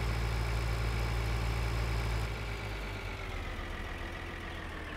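Tractor engine in Farming Simulator 2013 hauling a loaded tipper of crop, a steady low droning hum that runs unbroken throughout, dropping slightly in level partway through.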